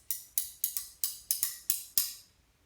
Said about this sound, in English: I also found some chopsticks.